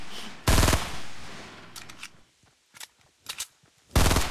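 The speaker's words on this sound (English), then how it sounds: "Yeah, just make it look like you're shooting somebody." Automatic-weapon fire in the battle royale game Fortnite: two loud, sharp bursts open and close the span, with a few quieter scattered shots between them and no talking.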